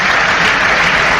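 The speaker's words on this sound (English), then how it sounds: "he's getting a good round of applause, Potts, and rightly so" A football crowd at Preston versus West Brom applauds Brad Potts as he leaves the pitch as a substitute, a dense, steady wash of clapping from many hands throughout.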